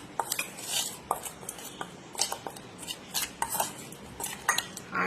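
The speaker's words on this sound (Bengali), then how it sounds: "এখন এই সমস্ত উপকরণগুলো একটু ভালো করে মিশিয়ে নেব।" A spoon scrapes and clinks against a bowl while mixing flour and powdered ingredients for homemade pitambori powder, with quick irregular strokes close by and no talk.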